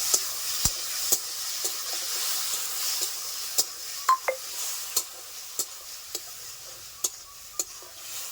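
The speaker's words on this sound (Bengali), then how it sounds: "একটু জল দিয়ে কচুরলতিগুলোকে আমি কষিয়ে নেব।" Taro stolons cook down with a little water and salt in a pan, giving a faint, soft sizzle under repeated sharp clicks and taps of a spoon stirring against the pan.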